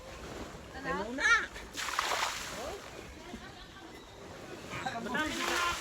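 Water is scooped out of a swimming pool in irregular strokes, giving splashes and sloshing pours at close range, with people talking over the work.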